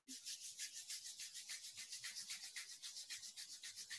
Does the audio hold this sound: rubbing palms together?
yes